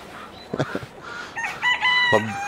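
Chickens on a Turkish farm with several breeds cluck in short bursts, then a rooster crows in a long harmonic call near the end, fairly close and clear over faint background noise.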